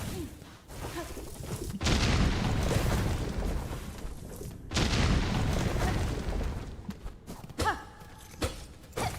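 Deep booming explosions from the Silksong video game, two broad loud bursts a few seconds apart with rumbling tails, followed by scattered shorter impacts and rustling game sounds.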